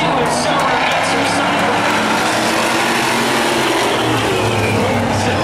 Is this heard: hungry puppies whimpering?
no